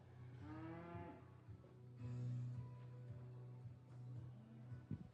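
Charolais heifer cattle at a livestock show give a low, drawn-out moo and then further deep bellows, faint and distant over a steady background hum.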